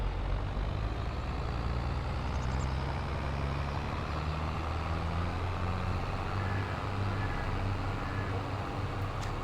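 Tractor engine in Farming Simulator 22, pulling gently across a field at low throttle, a steady low drone that runs unbroken throughout at an even level with no talk.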